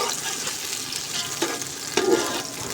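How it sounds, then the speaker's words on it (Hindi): Onions frying in ghee in a large pot for aloo pulao give a steady, moderate sizzle throughout, with a couple of slightly louder crackling bursts near the end. "इसके अंदर प्याज ऐड कर देंगे और अब इसके अंदर हम घी डाल देंगे।"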